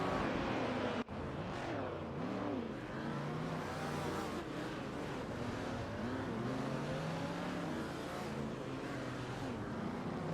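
Vintage Ferrari supercars race in a simulator at Spa, engines droning continuously and rising and falling in pitch as several cars rev through gears, steady and fairly close with no talk.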